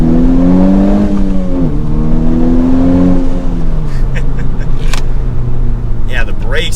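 A 2021 Honda Civic Type-R accelerating in second gear, its engine note climbing and droning loudly from inside the cabin, with a brief dip mid-pull and faint knocks later on.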